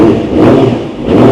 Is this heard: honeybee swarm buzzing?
no